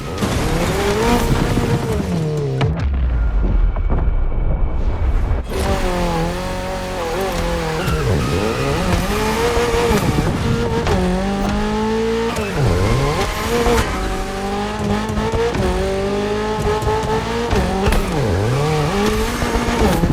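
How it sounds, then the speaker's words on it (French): A Toyota GR86 with a light, naturally aspirated engine races in The Crew Motorfest, its engine revving hard and rising through the gears, with repeated tire squeals and skids through the corners. The sound is loud and close, and nobody speaks. "Avec cette Toyota GR86, tu peux gérer toutes les situations. Légère, moteur atmosphérique, réactivité et agilité."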